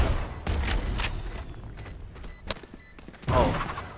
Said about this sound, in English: Shoot it right now.